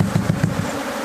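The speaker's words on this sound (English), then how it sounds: "Let's just stand here for a minute and see how aggressive these bees are, how many come out" A swarm of honey bees pours out of a hive, a dense, steady buzzing drone close by with a few pulsing surges, and no voices.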